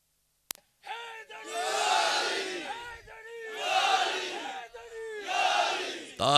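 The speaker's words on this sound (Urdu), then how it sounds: "ہن نعرے انج دے لاؤ مینوں آواز آوے تہاڈی کم از کم" A large gathering at a religious sermon shouts a slogan in three loud, drawn-out collective bursts separated by short pauses, after a single sharp opening knock.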